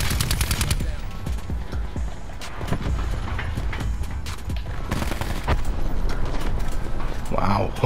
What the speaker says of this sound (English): He's just free firing.